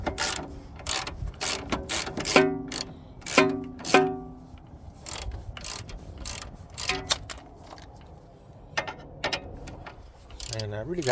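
Hand ratchet wrench clicking during automatic transmission replacement on a Honda D16Y5, close bursts of rapid sharp ratcheting clicks with pauses between strokes.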